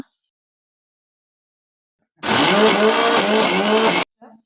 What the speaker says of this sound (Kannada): ಇದನ್ನೇ ಇವಾಗ ಮಿಕ್ಸಿ ಜಾರಿಗೆ ಹಾಕಿ ಸ್ವಲ್ಪ ನೀರು ಹಾಕಿ ನುಣ್ಣಗೆ ಪೇಸ್ಟ್ ಮಾಡ್ಕೊಬಿಡುವ